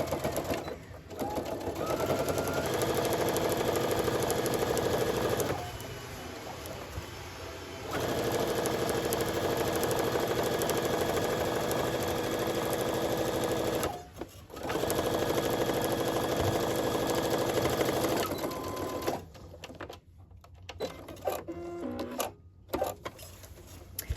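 A sewing machine stitches quilt sashing a quarter inch from a seam, running in long steady close whirring bursts with brief pauses between runs and clicks near the end.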